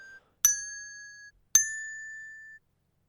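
Two bright desk bell strikes at slightly different pitches, each ringing out clearly for about a second in silence.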